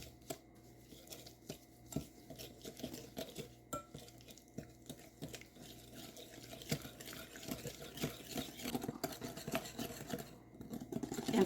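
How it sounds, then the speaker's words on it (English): Oat milk and brown sugar are whisked together in a bowl, producing a steady run of light metallic clinks and scraping taps close to the microphone, growing somewhat busier and louder toward the end, with no talking. "I'm going to whisk that together."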